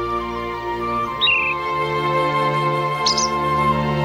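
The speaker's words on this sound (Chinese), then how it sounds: "你听，小鸟叫的多好听啊！" Small birds chirping in short bright bursts, a couple of quick twittering calls standing out over a steady tonal musical background in a kung fu film scene.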